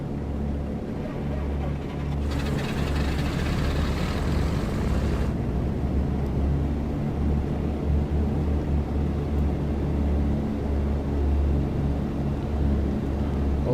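A BN-2 aircraft's left engine runs in Microsoft Flight Simulator, a steady low drone with a throbbing hum that stays level throughout, with a brief brighter hiss partway through.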